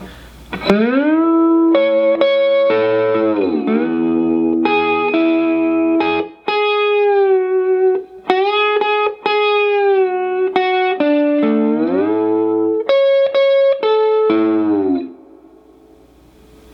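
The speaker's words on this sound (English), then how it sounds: "let's get into some slightly more advanced slide guitar playing" An electric slide guitar plays a solo from a song with gliding pitch bends and sustained notes, a bit of effects color, and no voices.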